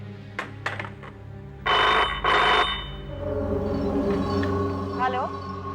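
A landline telephone rings twice in short, loud electronic bursts near the start, then a low hum carries on with faint vocal sounds.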